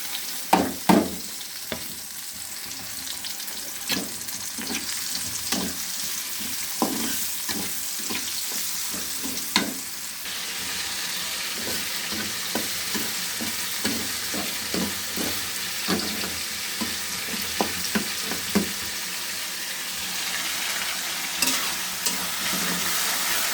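Leafy greens sizzle steadily in hot oil in a home kitchen, with a constant frying hiss and frequent scraping knocks of a spatula stirring the pan, close and without talk.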